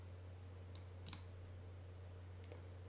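Computer mouse clicked a few times while navigating a settings dialog: three faint, sharp, isolated clicks over a steady low electrical hum.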